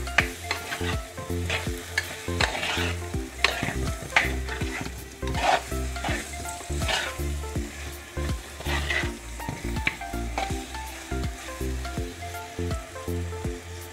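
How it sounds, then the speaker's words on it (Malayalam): Prawns seasoned with turmeric and salt get stirred into masala frying for a prawn and drumstick curry, a loud continuous sizzle with constant rhythmic spoon scraping close by, no one talking. "ഇനി നമുക്ക് നേരത്തെ മഞ്ഞളും ഉപ്പും ചേർത്ത് വെച്ച ആ ചെമ്മീൻ ഇതിലേക്കൊന്ന് ഇട്ട് കൊടുക്കാം മസാല ചെമ്മീനിലേക്ക് നന്നായിട്ട് യോജിപ്പിച്ച് കൊടുക്കാം"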